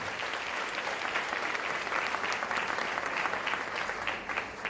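A large auditorium audience at an annual yoga centre programme applauds loudly, a dense, steady wash of many hands clapping without a break and with no voices on top.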